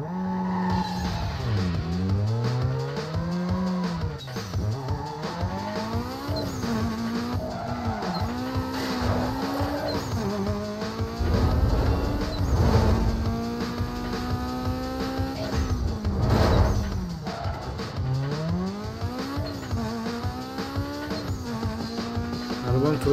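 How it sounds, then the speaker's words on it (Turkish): Racing car engine in the video game Need for Speed Most Wanted Redux, a Fiat Punto, revving and shifting up and down in continuous loud waves with turbo whine and tire squeal, while someone talks over it. "Turbo sesi güzel de."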